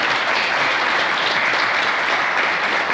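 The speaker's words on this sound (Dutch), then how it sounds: "Dus graag een applaus voor Theo en Titia." A crowd at a Corvette club meeting applauds dense and steady for a few seconds, with clapping filling the room.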